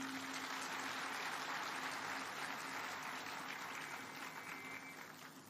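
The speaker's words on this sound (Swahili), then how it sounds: "Tafadhali huyu muungano tumpigie makofi jameni." Sustained applause from a crowd at the commissioning of a cement clinker plant in West Pokot County, Kenya, dense and steady before tapering slightly at the end, with no talk over it.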